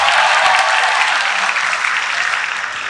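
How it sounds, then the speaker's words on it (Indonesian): A crowd applauds loudly at a BKKBN family-planning kick-off event in Lampung, Indonesia. Thick, close clapping from many hands fades slightly toward the end. "Tepuk tangan untuk semuanya."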